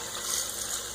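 Water poured into an Instant Pot over rice, a continuous steady splashing stream, close and even in level for the full second.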